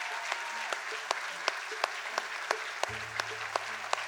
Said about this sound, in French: on peut l'applaudir encore une fois, s'il vous plaît